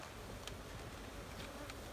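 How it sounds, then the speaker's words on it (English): Honey bees shaken from frames into a hive box fill the air with a faint, dense, continuous buzzing drone that holds steady throughout. "So we're just gonna shake bees into there."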